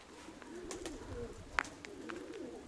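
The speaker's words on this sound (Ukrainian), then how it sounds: "Валера, ось твоя голубка." Domestic pigeons coo softly nearby, low throaty calls rising and falling over faint background sounds, with a few light clicks and rustles.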